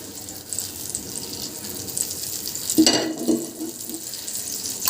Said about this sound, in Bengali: প্যানে মাখনটা গলিয়ে নেব।